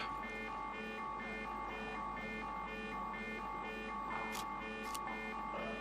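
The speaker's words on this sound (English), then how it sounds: "Every time this alarm goes off, potentially you'll get a guy jumping out of there." An electronic alarm blares inside the video game SCUM, a continuous pulsing buzzer tone that repeats in steady rhythm, with a couple of brief sharp noise bursts near the end.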